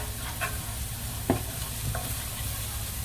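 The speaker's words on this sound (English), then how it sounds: "Okay, so I added some minced garlic to the pan." Minced garlic sizzles steadily in a frying pan for pasta, a close, even hiss with a few soft stirring clicks and scrapes.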